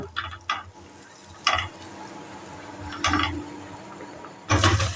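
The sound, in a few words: potatoes added to melted butter, sizzling in pan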